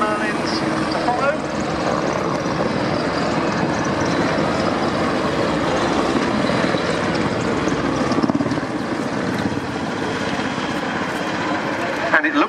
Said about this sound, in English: helicopters pass by from left to right, the two Wildcats from 815 in the lead, the 4 commando Merlins to follow.